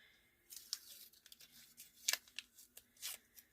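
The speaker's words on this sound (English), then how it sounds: "Let's tear off the labels here." Paper labels are torn off dollar store items in a string of quiet, brief ripping and crinkling bursts, close up and with no one talking.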